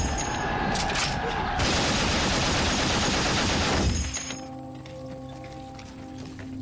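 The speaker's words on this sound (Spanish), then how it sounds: "las ofensivas del general Joffre son rechazadas por las ametralladoras alemanas" German machine guns firing on the First World War western front in winter: a loud, dense burst of rapid gunfire that stops after about four seconds, giving way to softer sustained tones.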